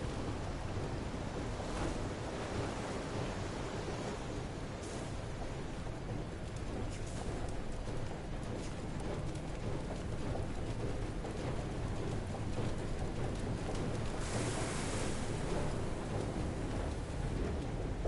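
Ocean waves in the game Far: Changing Tides, heard as a constant loud roar of surf and wash that surges now and then without pause, with no voices.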